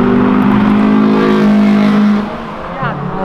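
An Audi R8 V10 engine revs hard and sustained, loud and droning with steady harmonics, then drops in level near the end as it eases off; voices may be mixed in.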